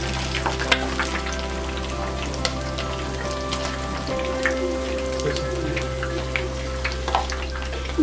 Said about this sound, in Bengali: অপর পাশটা একই রকম করে ভেজে নিতে হবে